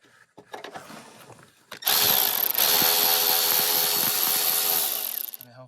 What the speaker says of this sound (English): I brought my trusty Milwaukee ratchet.